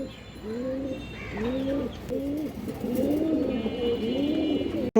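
A male Sapchila pigeon of an old breed, among other pigeons, coos in a repeated rolling rhythm, close and clear, with about five bubbling coos in a row and no talking.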